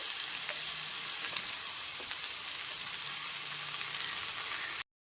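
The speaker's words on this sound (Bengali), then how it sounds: "গ্যাসের ফ্লেমটা মিডিয়াম টু হাইতে করে তিন থেকে চার মিনিট ধরে খুব ভালো মতো সমস্ত সবজি আমি ভেজে নিয়েছি" Vegetables, including eggplant and ridge gourd pieces, frying in a pan over a medium-high gas flame give a steady, soft sizzle with faint stirring scrapes, close and uninterrupted, with no voices.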